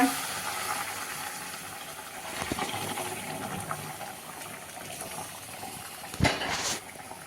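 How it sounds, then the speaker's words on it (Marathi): Boiled water, about two and a half cups, pours onto roasted bhajani flour with a steady bubbling hiss and a sharper splash near the end. The pour is fairly close and sounds alone. "मी इथे अडीच वाटी पाणी घेतलेलं आहे उकळून घेतलेलं आहे पाणी ते आपण ह्याच्यावर घालूया"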